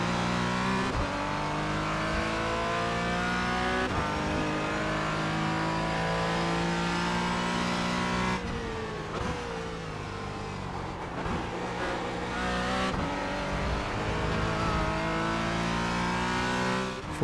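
A Porsche Cayman GT4 race car in the iRacing video game at Sebring, its engine loud and close as it revs up through the gears, dips on lifts and braking, then climbs again in continuous howling pulls.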